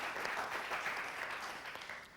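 An audience on a TV game show hosted by Shekhar Suman claps for a contestant named Pooja, with brief, even applause that sounds rather faint and distant and no talking over it.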